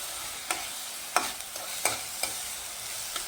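Green chili and garlic sautéing in a pan, a steady soft sizzle with several light scraping stirs spaced through it, close by and with no talking.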